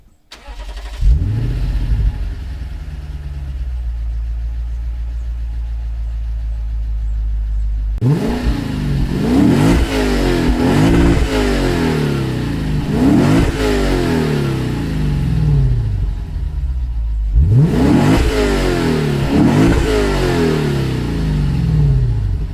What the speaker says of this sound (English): I'll do a quick little POV drive in it